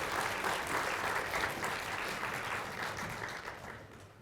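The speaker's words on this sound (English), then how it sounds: "Let's have another big round of applause for all of our lightning talk speakers" A conference audience gives a round of applause for a set of lightning talk speakers, dense steady clapping that slowly tapers off over a few seconds.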